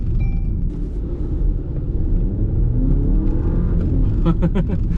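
Ram Rampage Rebel pickup with a 2.0 turbo engine accelerating from inside the cabin, a steady loud engine rumble rising in pitch throughout, with brief clicks and faint voices over it.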